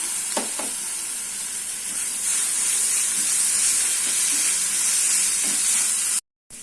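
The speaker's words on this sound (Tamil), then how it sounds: "ஒரு டீஸ்பூன் அளவுக்கு இஞ்சி பூண்டு பேஸ்ட் வச்சுருக்கேன் அதை போட்டு வதக்கிடலாம்" Ginger garlic paste sautéing in a pan while a drumstick poriyal is cooked, giving a steady, close sizzle and hiss with a few soft stirring scrapes and no talk, ending in a brief cut.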